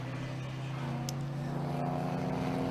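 A Porsche race car in the CALM All Porsche Trophy at Anglesey Coastal circuit holds a steady, droning engine note as it drives down into the banked corner, with no other sounds around it.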